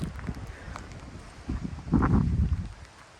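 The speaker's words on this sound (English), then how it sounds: "I love the wind in the trees" Wind blows through trees on a Florida farmstead, gusting in uneven rustling surges that swell louder toward the middle, with no talk.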